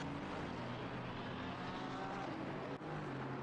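GT3 race cars, a McLaren among them, lapping Misano in the racing game Assetto Corsa Competizione: a steady, loud engine drone with layered harmonics that holds throughout, dipping only briefly near the end.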